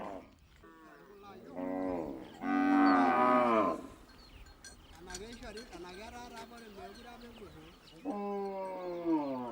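Cattle in a Maasai village low repeatedly, with long harmonic moos rising and falling, one especially loud and drawn out, while other cows call back and forth nearby.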